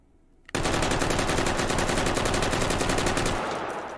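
An L85A2 rifle fitted with a muzzle brake fires in the VR shooter H3VR: after a brief quiet moment, one sustained burst of rapid, evenly spaced automatic shots rings out loud and close for about three seconds before fading.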